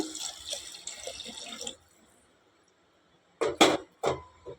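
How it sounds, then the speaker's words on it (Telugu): Water pours from a vessel into a pot of split green gram lentils with tomato for dal, a steady splashing stream that stops, followed after a pause by a few short clinks and splashes. "ఇలా వాటర్ పోయాలి"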